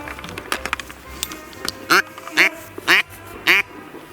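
Four loud, evenly spaced wild duck quacks near at hand, following some quieter clicks and rustling at the start, during a duck hunt.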